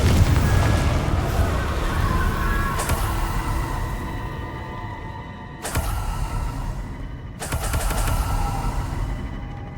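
Confringo blasting spells fired in Hogwarts Legacy, with loud booming explosions at about 3, 5.7 and 7.6 seconds over a continuous dense rumble of game effects and music.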